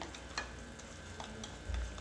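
A sugar and cardamom mixture melts in a pan while being stirred, giving a faint, soft sizzle with a few light scrapes and ticks.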